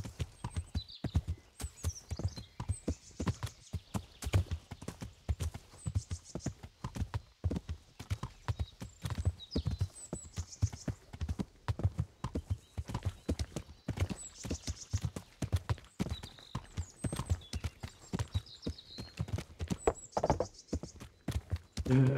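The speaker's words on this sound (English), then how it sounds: "Just riding around on the horse is way more entertaining than fast traveling" Horse hooves clip-clop at a steady, rhythmic pace as a rider travels on horseback in a video game, close and continuous throughout, with faint high game sounds drifting over the hoofbeats.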